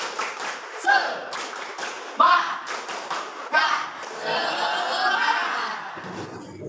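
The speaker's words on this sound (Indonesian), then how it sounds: "Tepuk semangat." A classroom of students performs a rhythmic spirit clap, with sharp claps in patterned bursts, a few thumps and some giggling and chatter mixed in before the clapping stops.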